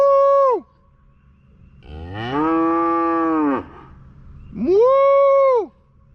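A person imitates a cow's moo in a cow calling contest: three long, loud, drawn-out mooing calls with gaps of quiet between them, the middle call the longest.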